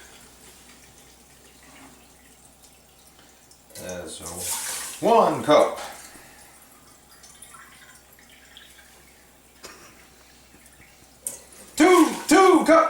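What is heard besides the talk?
filtered water running from sink tap into measuring cup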